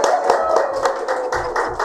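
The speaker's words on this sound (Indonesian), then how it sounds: "Tepuk tangan dulu, tepuk tangan dulu." An audience claps at a stand-up comedy show in Kupang, a short burst of brisk, fairly close applause with distinct individual hand claps, with voices faintly mixed in.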